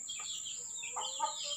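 Free-range village rooster clucking, a few short quiet calls over a faint outdoor background, heard alone with no talk.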